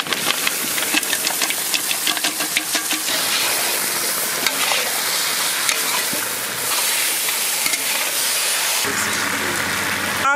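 Marinated goat mutton sizzling loudly in a hot pan while being stirred, a steady dense frying hiss with repeated scraping and clattering of the spoon throughout.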